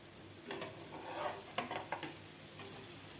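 Sattu flour chila, a crisp besan pola, roasting in a hot pan: a steady close sizzle with a few sharp scrapes and taps from a spatula.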